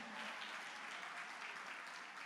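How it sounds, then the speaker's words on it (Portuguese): Faint, distant applause from a church congregation, a soft continuous patter of many hands. "Uma salva de palmas aí para esse projeto."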